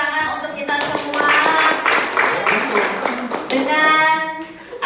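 Clapping from a group at an Indonesian public speaking event, steady and close, mixed with voices talking and calling out over the applause.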